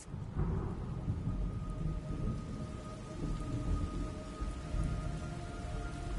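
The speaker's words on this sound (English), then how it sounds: "It's raining blood." Rain and thunder from the video game Metal Gear Solid Delta: Snake Eater, a steady hiss of heavy rainfall with low rolling thunder rumbling underneath, continuous and fairly quiet, with no speech.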